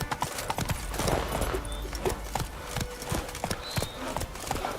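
Roach, Geralt's horse in The Witcher 3, trots with a steady, distinct clip-clop of hooves close by, the rhythmic hoofbeats standing out over faint ambient game sounds.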